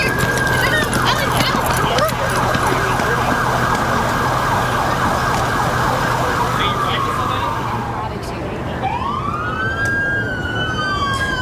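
Police car sirens wail as dozens of officers race off in patrol cars toward a shooting scene, loud and continuous, with several sirens overlapping and sweeping up and down near the end amid engine and street noise.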